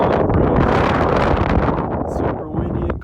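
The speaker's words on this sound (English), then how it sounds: "super windy and cold" A strong, cold wind buffets the microphone on a mountain saddle between Castle Peak and Conundrum Peak, a loud, steady roar with no break for the whole stretch.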